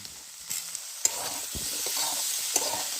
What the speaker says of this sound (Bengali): ভালো করে আলু টমেটো ভেজে নেব